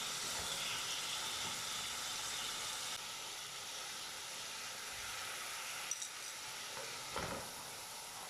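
Chicken fries in a pot for a one-pot cheese pasta, a soft steady sizzle and hiss running faintly throughout, with a couple of small clinks near the end.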